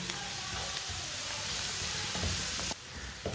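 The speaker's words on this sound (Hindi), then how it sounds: "सब मसालों को ना 1 मिनट के लिए पका लेते हैं, साथ में हमारी सब्जियां भी पक जाएंगी।" Spices and vegetables cook in a pan with a continuous hissing sizzle, fairly close and even, that drops off abruptly near the end, followed by a few soft clinks.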